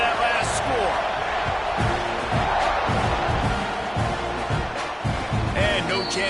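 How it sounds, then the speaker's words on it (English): Stadium crowd at a college football game buzzing after a touchdown, a loud steady roar with scattered shouts and thumps, an announcer talking over it. "this crowd is buzzing after that last score"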